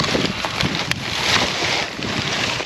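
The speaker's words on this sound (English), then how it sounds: "It's a little windy out here." Strong wind blowing outdoors during a copper-wire scavenging outing, a loud steady rush of gusts buffeting the microphone with no one talking.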